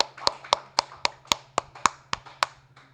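Single pair of hands clapping about ten times at a steady, slightly uneven rhythm, close and fairly loud, with a faint low hum underneath.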